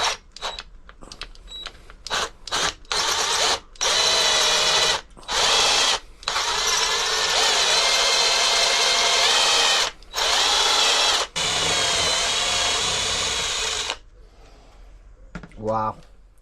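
A power drill with a cobalt-tipped bit bores into metal on a carp fishing barrow, whirring loudly in repeated bursts of several seconds, with short pauses between runs and a brief gasp near the end.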